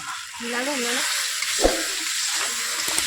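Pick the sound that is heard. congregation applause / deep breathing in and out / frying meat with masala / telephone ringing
frying meat with masala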